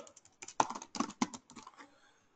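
Quick bursts of keystrokes on a computer keyboard as an AWS S3 sync command is entered at a command line, uneven clicks clustering then thinning out, close and fairly quiet.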